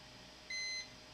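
A multimeter's continuity beep sounds while probing components on a failed SK Hynix BC511 SSD: one steady electronic tone of about a third of a second, clear and close against a quiet background hiss.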